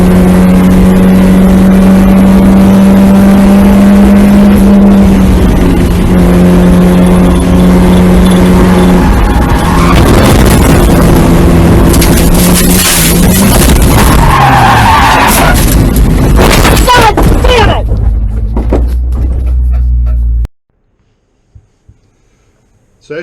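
A race car exits turn 10 at Summit Point track, its loud engine holding a steady drone as the tires skid and squeal through the corner, closing with a hard cutoff into near silence.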